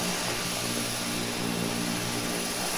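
Steady, loud turboprop drone from an EMB-120 airliner in a flight simulator game, a constant broadband roar with low engine tones and no other sounds, as if heard during takeoff.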